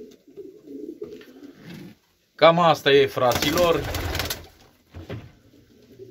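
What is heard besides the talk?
show pigeon cooing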